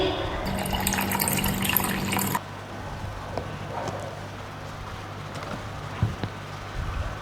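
Liquid poured into a glass during a school science show, a 15 ml measure of a coloured liquid; a brief loud pouring splash at the start, then quieter trickling and small clinks in a room.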